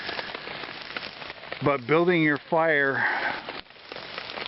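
Rain falls steadily outdoors in extreme wet conditions, a constant soft patter under a man's speech.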